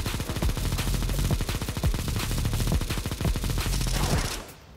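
Rapid automatic gunfire from a video game, a dense fast burst of shots rattling continuously for several seconds before cutting off.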